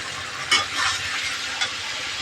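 Spice masala sautéed in a pan, a continuous close sizzle with soft stirring scrapes and a couple of brief louder swishes.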